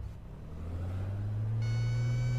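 An aircraft engine in a flight simulator game throttles up to full power, a steady droning hum that climbs in pitch and loudness, joined by a higher whine partway through, with no talk.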